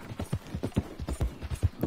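Horse hooves clip-clopping at a steady trot in Red Dead Redemption 2, a close, even rhythm of dull hoof strikes with no voices.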